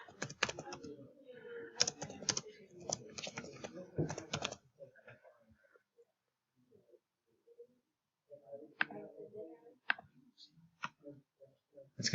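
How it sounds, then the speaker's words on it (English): Close, quiet clatter of typing on a computer keyboard comes in quick bursts of key clicks, pauses, then resumes with sparser taps and some soft speech in the background. "We're going to type"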